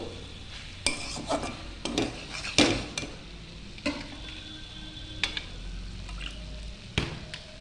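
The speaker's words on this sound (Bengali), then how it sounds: "আমি সবগুলো উপকরণ ভালো করে মিশিয়ে নেব।" Soybeans stirred together with sauce ingredients in a sizzling pan for chilli soybean, with scattered sharp spoon scrapes and clinks over a continuous frying hiss and no talk.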